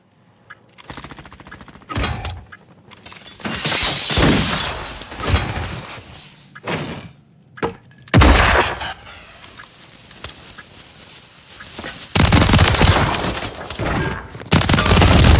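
Thermite going off in Call of Duty Warzone search and destroy, harsh crackling bursts and shattering blasts in several loud waves, mixed with other game noise.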